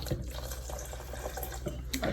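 Water trickles and splashes steadily at close range, a soft continuous pouring with faint drips, no voices, as water is added to a red cabbage and avocado smoothie.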